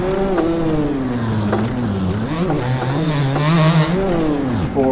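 Gas Gas 250cc motocross bike engine in the MX Bikes racing game, revving continuously with rising and falling pitch as throttle is worked through corners, loud and close throughout.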